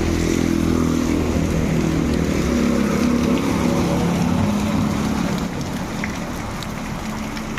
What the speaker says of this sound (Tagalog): Lalong lumakas na yung ulan no?